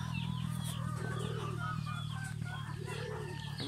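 Native chickens cluck in an open field, with several birds making overlapping calls and short bursts of clucking, heard near over a steady low rumble of background noise.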